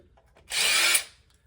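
A brief, close whir of a power drill removing screws from a 2004 Honda VTX 1800C motorcycle, spinning for about half a second, starting and stopping abruptly in a quiet room.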